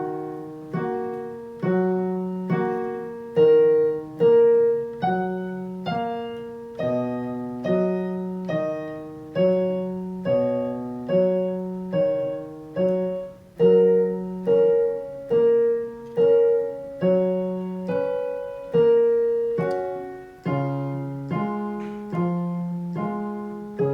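Piano plays the last eight measures with both hands: steady repeated left-hand bass notes under a simple, evenly paced right-hand melody, each phrase fading before the next, clear and alone.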